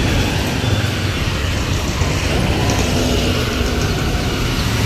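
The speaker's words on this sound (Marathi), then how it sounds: "गाड्यांचा आवाज एवढा आहे" Heavy roadside traffic in light rain makes a loud, continuous roar and rumble of passing vehicles, with no clear gaps between them.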